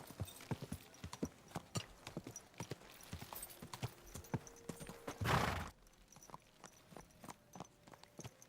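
Horse hooves clip-clop steadily in Kingdom Come Deliverance 2, a quick walking rhythm at moderate distance, broken near the end by a brief burst of rushing noise before the hoofbeats resume.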